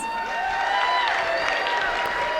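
Crowd applause and cheering at the Secret Knock 2022 event as Brandon T. Adams is welcomed, a dense wash of clapping over bright, sustained walk-on music.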